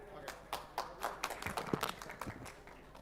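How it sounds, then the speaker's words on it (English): Scattered applause from a forum audience after a speaker is introduced, with a handful of distinct, fairly close claps and taps mixed with some low voice activity, brief and uneven rather than sustained. "a big round of applause for Mr."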